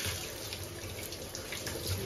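Running tap water pours steadily over dishes being washed at a home sink, a continuous splashing wash with no voices.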